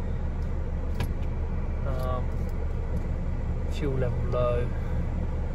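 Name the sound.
2018 Ford Transit 2.0L diesel van engine idling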